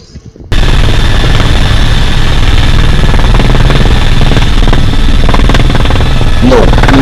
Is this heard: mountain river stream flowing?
no